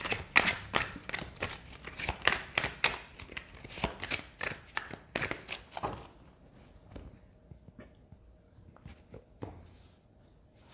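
Rider-Waite tarot cards shuffled by hand in a quick run of crisp riffling bursts for about six seconds, then a few sparse, softer card taps and slides in near silence.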